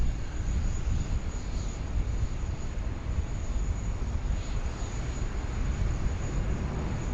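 A Boeing 737 returns to Sydney Airport, a broad, steady rumble of jet engine noise heard from a distance, with no voices over it.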